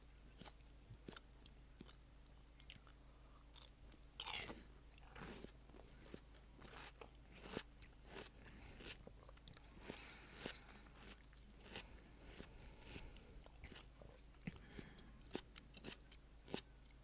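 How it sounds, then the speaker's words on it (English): Watermelon being munched and chewed up close, soft wet bites and crunches scattered irregularly over a steady low background hum, quiet and with no talking. "Do you guys like the munching noises?"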